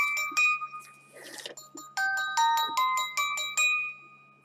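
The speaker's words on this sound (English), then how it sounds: "I had a phone call." A phone ringtone for an incoming call plays a bright electronic melody: a few scattered tones, then a run of rhythmic, evenly spaced notes, fairly loud and close with no talking over it.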